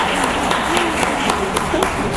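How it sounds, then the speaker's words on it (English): Church congregation clapping for the chancel choir, a brief, fairly loud spatter of applause with a voice talking over it. "I think we need to give them a round of applause."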